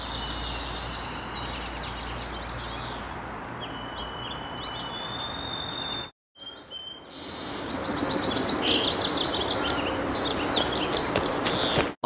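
A recorded Swainson's thrush song plays repeatedly through a speaker set beside a mist net, bright spiraling phrases over a steady outdoor hiss, with a brief cut midway before the song and background return louder.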